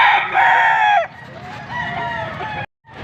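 A gold stag gamecock crows loudly and close, one long strained crow followed by clucking calls, in a rooster market setting in Angeles, Pampanga.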